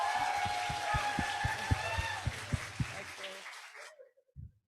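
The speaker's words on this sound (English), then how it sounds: "let's give a biggest applause for Professor Benjamin Gregg" Lecture audience applauding Professor Benjamin Gregg after a bioethics talk, a steady wash of clapping with a few sharp individual claps standing out, fading out near the end before a brief final sound.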